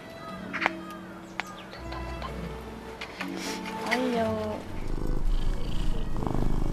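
Cats purr close by during solo winter camping while sharing a sleeping bag, a soft continuous rumbling that runs under a person talking to them, with some camp background noise.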